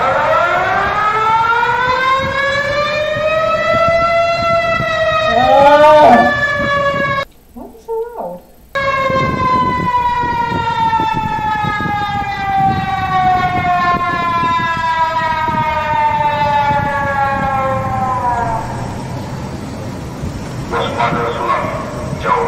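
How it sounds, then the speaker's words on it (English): An emergency alert siren wails in a long, loud, slowly falling tone that holds for most of the stretch, briefly cutting out once before resuming, with a dog-like yipping quality at moments. "This sounds like an over exaggerated version of our siren."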